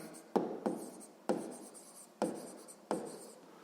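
Pen or pencil writing out radius and diameter figures for a sixth-grade geometry exercise on inner and outer circles, five distinct scratchy strokes in a slow uneven rhythm, close and fairly quiet with no talking.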